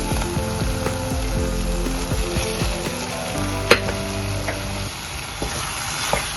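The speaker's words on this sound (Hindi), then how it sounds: "पनीर को इसके संग वो कर लेंगे सौते कि पनीर में सारा फ्लेवर मसालों का आ जाए" Paneer cubes sautéing with spices in a pan for a tomato-free paneer gravy give a steady, close sizzle and crackle, with a few sharp pops and stirring scrapes throughout.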